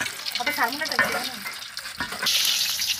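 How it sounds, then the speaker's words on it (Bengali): Potatoes fry in a pan with a bright sizzling hiss that swells louder near the end, mixed with clatter of handling and faint background voices. "আলু ভাজতে দিতেছে"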